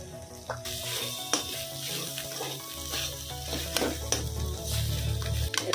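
Green chili, ginger and garlic paste fry with spices in a pan for a paneer and potato dish, giving a steady sizzle broken by repeated scraping stirs and light clinks of utensils.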